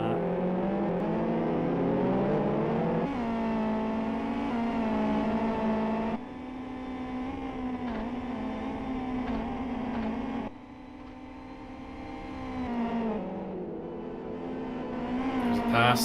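Race cars in the Live for Speed sim sweep past one after another, engines whining and shifting pitch as each car passes, with a commentator talking over the racing.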